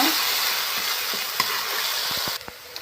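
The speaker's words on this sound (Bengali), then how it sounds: "কাঁচা লঙ্কা, জিরে বেটে নিয়েছি, হলুদ পাউডার, লবণ, একটু নাড়াচাড়া করে নেব" Chilli, ginger, cumin paste, turmeric and salt stirred and fried in hot oil for a Bengali rui fish curry: a steady broad sizzle with scattered scraping stirs, dropping quieter near the end.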